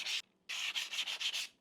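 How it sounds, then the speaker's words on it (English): Light hand sanding of wooden sign pieces with sandpaper: a short scrub, a pause, then a run of quick rhythmic back-and-forth strokes, close and crisp. "hit them lightly with the sandpaper"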